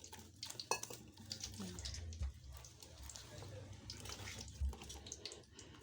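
Water splashes and trickles into a bowl of flour batter for potato and beetroot bhajji, a soft, uneven wet sloshing up close with light clinks of kitchenware and quiet voices in the background.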